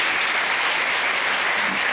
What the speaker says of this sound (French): Vous pouvez applaudir parce que je m'attendais pas.